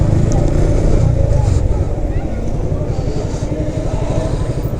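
A motorcycle is ridden through a heavy traffic jam, its engine a loud, close, steady drone that runs continuously with only slight rises and dips.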